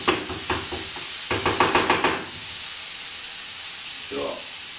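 Breakfast food toasting in a pan: a run of quick scraping stirs and clatter against the pan over a soft sizzle, then quieter frying with one brief knock near the end.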